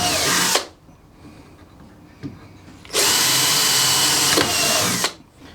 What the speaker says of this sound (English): So I'll just drill some pilot holes in this plywood.